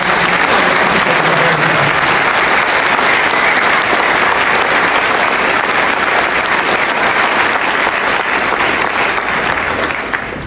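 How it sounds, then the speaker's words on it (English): A large summit audience applauds loudly and steadily to welcome the director of the Genesis mission onto the stage, the dense clapping holding for the full stretch before easing slightly at the end. "please give a big round of applause for the Director of the Genesis mission"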